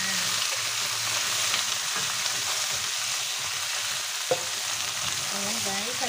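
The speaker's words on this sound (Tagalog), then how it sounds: "haluin lang muna natin hanggang maluto ng konti yung ating chicken." Chicken drumsticks frying in a pan and being stirred, a loud continuous sizzle with scrapes and a knock of the spoon against the pan.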